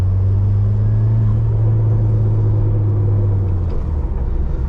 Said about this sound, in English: Man, that Ecotech turbocharged 4-cylinder.